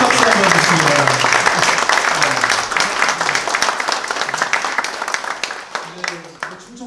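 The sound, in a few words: audience applause at a policy forum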